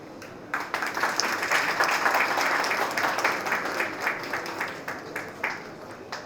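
Steady applause from an audience at a Jharkhand Mahotsav festival event, many hands clapping at a sustained, fairly loud level for several seconds before easing slightly.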